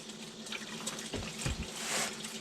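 Transmission fluid gushes out of a 2005 American Eagle RV during a fluid change, a steady hot liquid rush with a couple of louder splashing surges, close and continuous with no talk.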